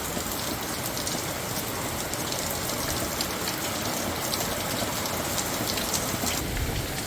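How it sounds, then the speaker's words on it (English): Steady rain from a passing squall falls on a boat at anchor in Grand Anse, Martinique, a dense, even hiss of drops drumming on deck and surfaces, continuous and close with no voices. "within about 15 minutes of anchoring, we have a little squall passing by"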